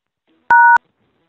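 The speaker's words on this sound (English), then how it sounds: "when you're ready, say continue or press the star key" A single telephone keypad tone from the star key being pressed during an automated phone call, a clean dual-pitch beep lasting about a quarter second, loud and alone against silence.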